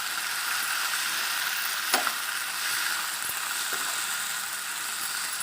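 Chopped raw mango sautéing in oil in a pan for mango rice: a continuous soft sizzle with a few faint clicks of stirring, no talk.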